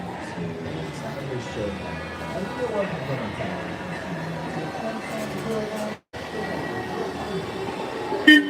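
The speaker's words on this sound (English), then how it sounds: "Please wait, do not yet approach the tram." A theme park tram at Universal Studios Hollywood rolls in with a rumbling, clattering mechanical run and squeals. A public-address voice is heard over it, and the sound cuts out briefly near the end.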